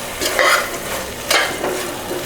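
A handful of mint and coriander leaves sautéing in a pan for a paneer peas pulao, with close stirring strokes in two louder swells over a continuous sizzle; no voices.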